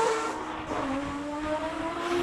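A Mazda RX-7 race car screams past at a Cape Town classic speed event, a loud rising and falling high-pitched engine whine that sweeps by from fairly close.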